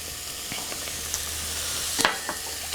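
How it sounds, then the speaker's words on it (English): Chopped onions and celery hit a hot pan of browned mushrooms and sizzle softly and steadily. Sharp crackles and pops, with a burst near the middle, stand out against the hiss, and no voice is heard. "this is where I'm going to add my onions and celery to it"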